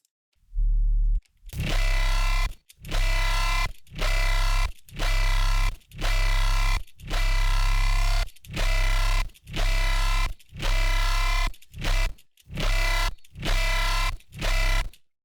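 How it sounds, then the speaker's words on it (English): Heavily distorted, buzzing tearout dubstep bass notes made in FL Studio sustain in a steady series of about a dozen long hits, each cut off by a brief silence, loud and alone. "for the effects, we're gonna pretty much just put some distortion. Just distort it."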